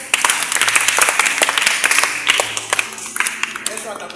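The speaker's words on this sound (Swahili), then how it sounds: "Pigia makofi" A group claps for a child in a Catholic catechism class on the sacraments, a brisk burst of many hands lasting a few seconds with a voice over it, then tapering off.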